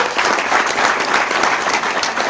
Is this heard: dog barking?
no